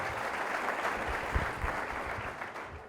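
An audience applauds at a political speech in a hotel venue, a dense steady clapping from a crowd that holds throughout and then begins to fade.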